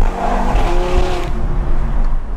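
A 460hp Audi RS3 accelerates hard nearby, a loud roaring engine note with a rising tone through a short burst that eases off toward the end.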